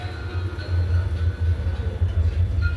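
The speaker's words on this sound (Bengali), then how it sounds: "আমি স্টেশনে চলে এসেছি, ট্রেন আমার আসছে" A train pulls into a station platform with a steady, low, heavy rumble that stays loud and continuous throughout, with faint higher noise over it.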